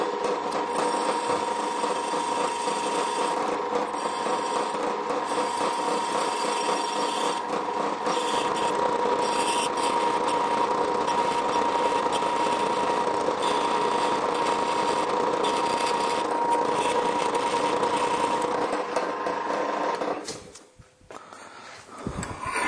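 Drilling into wood for a folding DIY woodworking press, a long, steady, gritty grinding rasp lasting about twenty seconds before cutting out abruptly, close and loud with no voices.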